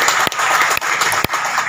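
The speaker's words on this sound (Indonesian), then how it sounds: "Tepuk tangan untuk semuanya." An audience at a regional government awards gathering applauds, a loud close wash of many hands clapping steadily, with a few sharper individual claps standing out.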